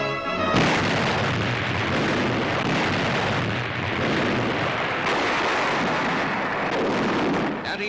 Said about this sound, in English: the Iowa's commander, Captain McCrae, orders her 9 16-inch guns to fire a mighty salvo